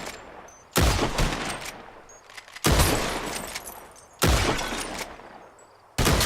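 Four loud, close gunshots at bottles in Red Dead Redemption 2, spaced roughly one and a half seconds apart, each a sharp blast followed by a ringing, echoing tail.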